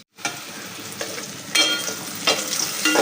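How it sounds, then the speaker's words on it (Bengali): Onions and whole garam masala fry in hot oil in a pan for a chicken dish, giving a steady close sizzle broken by a few louder bursts as they are stirred, with no talking. "তো গাইস এখানে মাংসের জন্য পেঁয়াজ আর গোটা গরম মশলা ভেজে নিতেছি।"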